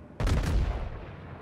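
A battleship's guns fire a salvo in World of Warships, a sudden heavy boom with a rolling, rumbling blast that tails off over about a second, loud and alone.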